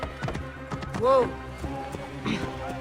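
In Assassin's Creed Origins, hooves clip-clop rhythmically and a horse gives one short, clear whinny midway, with a voice talking around it.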